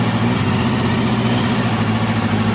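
A Honda CBR250 motorcycle engine idles quietly, giving a steady, even low hum with a smooth continuous drone that holds at a constant level throughout, with no voices.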